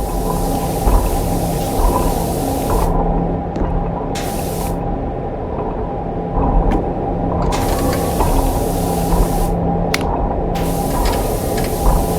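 In the game Powerwash Simulator, a pressure washer sprays steadily at close range, with a continuous loud hiss whose brightness surges and drops as the jet shifts across surfaces.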